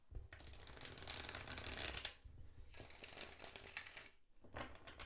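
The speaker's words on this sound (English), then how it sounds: "And you can also riffle shuffle it," Riffle shuffle of a tarot card deck, a dense papery burst of fluttering cards lasting about two seconds, followed by shorter crisp riffles and bridging snaps, close and clear with no talking.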